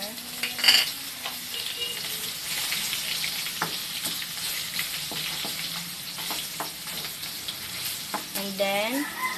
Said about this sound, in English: So, same oil pa din yung gagamitin ko dito pang saute.